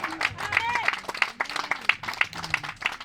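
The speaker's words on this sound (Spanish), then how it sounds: "Alguien da una ofrenda de palmas a Cristo Jesús." Scattered clapping from a small church congregation during a sermon, uneven and sparse, with voices and shouts mixed in over the top.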